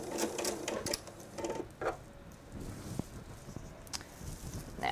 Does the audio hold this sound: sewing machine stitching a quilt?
yes